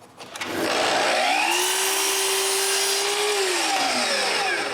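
A power saw spins up and bites into wood while cutting the bottoms for wooden boxes, one loud continuous cut with a rising then falling whine, close by.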